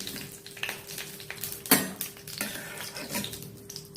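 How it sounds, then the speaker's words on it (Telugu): Vermicelli is stirred and fried in hot ghee in a metal pan beside cashews; a ladle scrapes and clinks against the pan in scattered taps, with one sharp louder knock midway and a faint sizzle underneath. "సేమియా కూడా వేయించేస్తాను"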